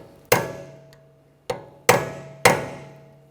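A punch or chisel is hammered to peen over the edge of an axle nut during a rear CV axle job on a 2009-2013 BMW 328i xDrive; four sharp, close metallic strikes land at uneven intervals, each ringing briefly before fading.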